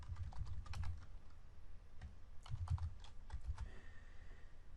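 Computer keyboard typing out code, a quick irregular run of soft clicks and key taps, close and fairly quiet, with short pauses between bursts.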